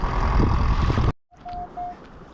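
A metal detector gives two short, steady electronic tone beeps during a metal-detecting search for relics, coming right after a loud burst of rumbling handling noise that cuts off abruptly.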